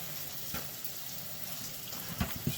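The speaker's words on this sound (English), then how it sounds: "So I run a little bit of water on my hand." Tap water runs briefly over a hand at an apartment sink during a maintenance job, a soft steady trickle with a couple of short splashy bursts near the end.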